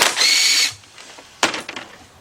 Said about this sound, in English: Get your cordless impact with your 10mm deep 3/8 drive